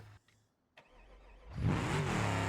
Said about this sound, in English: You can also hear that it's got a better, way better motor.